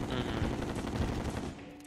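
Vortex Beater gun in Terraria firing a rapid, continuous stream of shots, dense machine-gun-like bursts that run loud for most of the moment before cutting off near the end.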